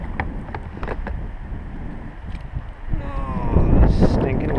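Wind gusts over the water during kayak bass fishing, with a rough buffeting rumble against the microphone that swells toward the end. Faint splashes and small knocks come through the wind.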